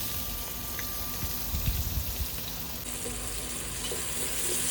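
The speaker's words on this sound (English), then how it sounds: "Then once again I'm taking one large onion, sliced it, adding to the oil," One large sliced onion frying in hot oil for yakhni pulao, a soft continuous sizzle with a few low knocks and clatters early on, moderately close and without speech.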